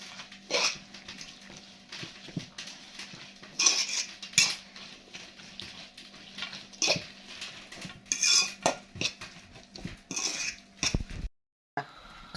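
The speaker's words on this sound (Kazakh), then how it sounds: "Енді жақсылап араластырамыз." Spoon stirring food seasoned with salt and pepper in a pot, irregular metallic clinks and scrapes against the pot close up, with brief pauses between bursts and no talk.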